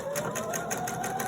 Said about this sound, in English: I'm just going to sew forward and back